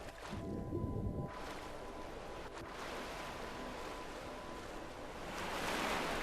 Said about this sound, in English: So I'm just gonna start swimming into the ocean until I die.